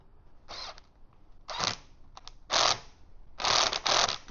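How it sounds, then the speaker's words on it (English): Four separate bursts of ratcheting and clicking as bolts on an electric tricycle basket are tightened with a Phillips head driver and an 8mm tool, each burst about half a second long, close and distinct, with quiet gaps between. "So I'm just going to use the Phillips head driver on this side, 8mm on the back. Just get them in and tighten everything up."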